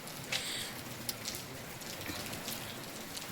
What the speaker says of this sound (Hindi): इस टाइम पे बर्फ़ भी जो है पड़ रही है, बारिश भी हो रही है।